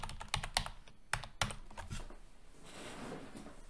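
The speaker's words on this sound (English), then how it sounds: "when I type cookies" Someone types on a computer keyboard in a spreadsheet program, producing a quick, quiet burst of distinct key clicks followed by softer rustling, with no talk.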